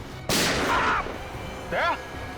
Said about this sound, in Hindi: सर गोली चली है।